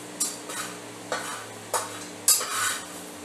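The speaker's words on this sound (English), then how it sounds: "put your caramelized onions on top of the tomatoes and beef" Caramelized onions scooped onto tomatoes and beef, heard as four soft, evenly spaced scraping and plopping strokes of a utensil over a faint steady hum, close and with no talking.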